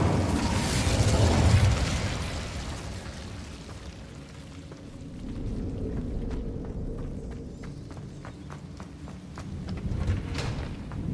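Fire spell blast in Hogwarts Legacy gameplay, a loud whooshing burst of flame up front that fades into a lower rumbling roar, followed by crackling clicks and a second swell.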